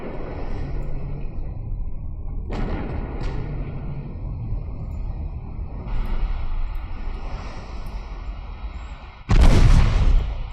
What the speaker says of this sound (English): The torpedoes exploded.